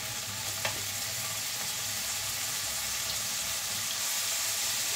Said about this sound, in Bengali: এখানে ফ্রাই করে নিই। এটা একটু ভাজা ভাজা হলে বাকি সবগুলো দিয়ে দেব সবজি।